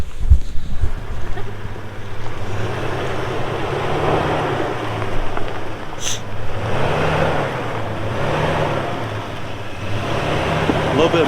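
A Mallcrawler off-road vehicle driving up a climb, its engine droning and rising and falling in repeated surges under heavy wind buffeting on the microphone, with voices talking in places.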